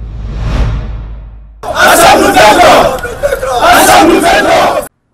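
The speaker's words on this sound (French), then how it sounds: "C'est une foule pleine de joie qui retrouve son leader syndical." A joyful crowd greets a union leader, bursting into loud cheers and shouts after a brief whooshing lead-in, the roar rising in waves before cutting off sharply.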